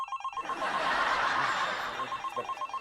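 A telephone rings several times in a row, a steady bright ringing that fills the short stretch with no voices over it.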